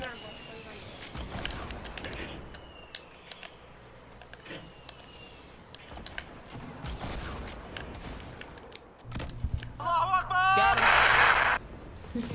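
Gunfire in Fortnite Battle Royale, with scattered sharp shots and short bursts throughout, building to a loud dense volley near the end, mixed with in-game effects and people talking.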